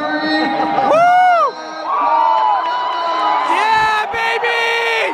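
A hometown crowd at an MMA fight in Springfield, Missouri roars and whoops loudly, with shouted voices and yells rising over sustained cheering throughout.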